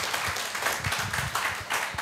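A church congregation at an anniversary service breaks into a brief burst of applause, steady clapping filling the room for a couple of seconds.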